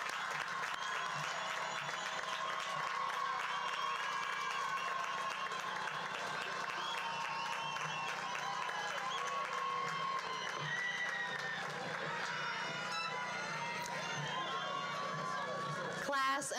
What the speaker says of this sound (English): I need for 10 seconds to give these babies a round of applause